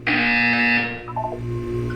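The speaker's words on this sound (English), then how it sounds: "You will hear a buzzer." A loud, harmonic electronic buzzer from the video game Portal 2 sounds once for under a second, then cuts off and leaves low background hum and a few faint chirps.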